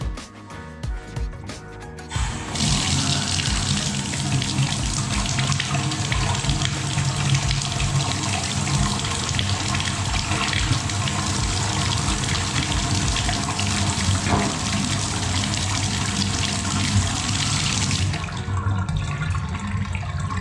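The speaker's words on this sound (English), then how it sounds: "Draining like a champ." Water draining from a slow bathtub drain after unclogging, a loud continuous rushing gush that starts abruptly and runs steadily for about fifteen seconds before cutting off, with no speech.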